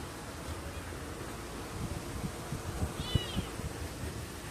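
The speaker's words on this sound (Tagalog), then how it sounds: "nanganak na yung alaga akong pusa. Dami niyang anak." A pet cat that recently had kittens gives a single short meow partway through, heard faintly over a rustling, breezy outdoor background.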